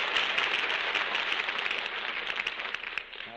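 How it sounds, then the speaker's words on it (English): Studio audience applause at a live radio drama broadcast, a dense steady wash of clapping that holds fairly loud and then thins slightly toward the end, with no voices. "That applause goes from coast to coast."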